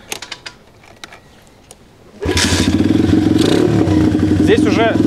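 An XMOTOS 125cc pit bike with 17-inch front and 14-inch rear wheels starts after a few quiet clicks, then its engine catches with a sudden loud roar and revs steadily in a rough, rapid putter up close.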